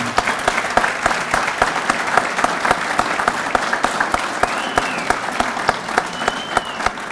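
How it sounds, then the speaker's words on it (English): A room full of people at an athletics hall of fame induction ceremony claps steadily, a dense sustained round of applause with no talking over it. "So would you join me in giving a round of recognition and applause to Jack Martin?"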